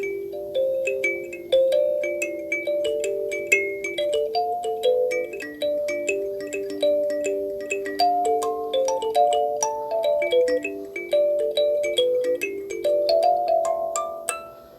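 Kalimba plucked in short repetitive rhythmic figures, bright metallic tines ringing and overlapping at a steady moderate pace, close and clear with no voices.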